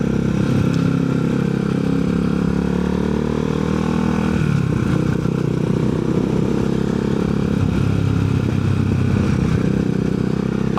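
Herald Classic 400 motorcycle exhaust on twisty country roads, a loud continuous thrumming drone that dips and rises with throttle changes, riding close with no talk over it.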